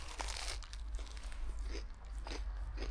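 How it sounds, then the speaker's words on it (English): A bite into crunchy curry bread gives loud, close crunches followed by crisp chewing, repeating in several bursts with no talking. "Do you hear that crunch?"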